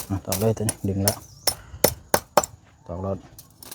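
A hammer delivers a handful of sharp, close strikes, likely driving nails, with someone talking in short bursts between the blows.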